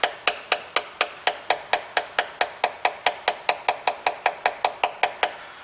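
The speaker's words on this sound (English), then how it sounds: "I'm only using the weight of the hammer." Steady rhythmic hammer taps on metal, driving a seal into an Audi A3 gearbox, about four per second, crisp and close, with a few brief high ringing tones between strikes.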